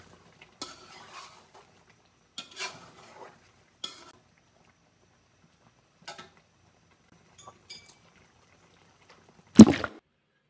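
Fried potatoes being stirred into creamy chicken adobo with mushrooms, a few soft scattered scrapes and clinks of a utensil against the pan, then one louder clatter near the end, with no talk.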